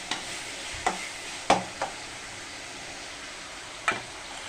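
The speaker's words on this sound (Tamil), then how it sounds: "தக்காளி வதங்கட்டும்." Tomatoes sautéing in a pan for keerai kootu give a steady close sizzle, punctuated by a few sharp clinks and scrapes of stirring spaced across the moments, with no talk.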